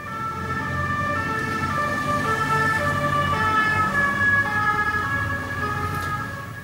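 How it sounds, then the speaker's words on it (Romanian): A loud wailing siren passes close by, its pitch sliding downward as it goes, steady and continuous with road rumble underneath. "Iar acum în cazul sirenei."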